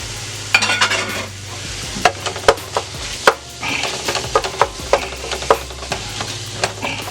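Sausage and ground beef fry in a pan while a utensil chops and stirs the meat, giving a steady sizzle punctuated by repeated scraping knocks and taps at an uneven rhythm, with no talking.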